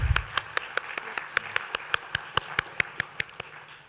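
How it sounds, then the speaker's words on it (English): A conference audience claps in a steady, evenly spaced rhythm, sharp distinct claps rather than a dense roar, at moderate volume with no talk. "So give everyone a round of applause."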